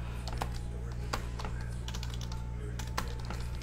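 Quick, irregular keystrokes on a computer keyboard, close and crisp, clattering in short bursts over a steady low electrical hum.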